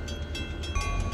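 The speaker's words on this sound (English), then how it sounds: "And down here is another train coming along the main line." A train rumbles steadily along the main line in Chester, Vermont, a low continuous roar with faint metallic tones and no voices.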